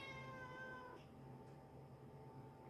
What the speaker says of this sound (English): We have a very unhappy kitty behind me.